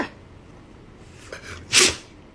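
Dog sneezing, one sharp close burst near the end after a few small snorts and sniffs, in a quiet room.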